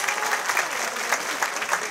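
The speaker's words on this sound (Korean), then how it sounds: "환영의 박수 한번 해주실까요?" Football fans at an Incheon United fan day give a welcoming round of applause, a steady wash of many hands clapping together, loud and sustained throughout.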